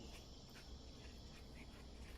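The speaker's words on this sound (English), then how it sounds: "If you can hear those insects, they are really loud." Steady, dense insect chirping fills the night air, a continuous buzzing chorus with no pauses, fairly loud and close.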